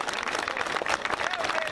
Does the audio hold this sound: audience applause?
yes